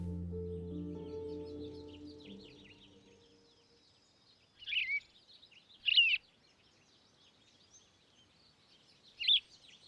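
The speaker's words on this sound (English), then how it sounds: "There was no lack of birdsong to cue any danger." Birdsong from an open setting: a few short, high chirping bursts come and go after a fading low drone at the start, each call fairly faint and separated by quiet gaps.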